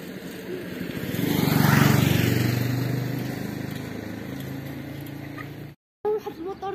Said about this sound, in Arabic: الموتور جاي